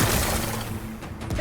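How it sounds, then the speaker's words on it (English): Rocks blasted apart in Horizon Forbidden West give a dense, loud burst of crackling, shattering debris, close by and continuous through the brief moment. "Gotta blast away some rocks, so I can expose the power cell."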